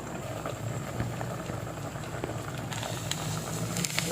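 Sinigang sa miso soup simmering in a pot, a steady low bubbling boil that fills the clip at a moderate level with faint scattered pops and no talk.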